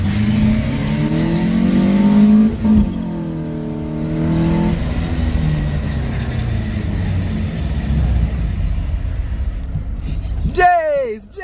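A car engine pulls steadily while driving, its droning note climbing and easing as the revs rise and fall, loud and close inside the cabin, with a sharper rising whine near the end.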